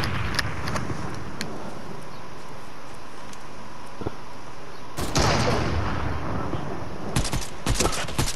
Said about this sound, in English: That's a sniper.